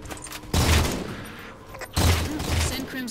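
Sniper gunfire in the video game Halo 4 rings out as two loud, heavy blasts about a second and a half apart, each trailing off into a rumbling decay.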